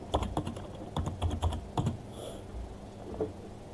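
Typing on a computer keyboard, clusters of quick close key clicks in short bursts separated by pauses, fading to sparse taps near the end, without talk.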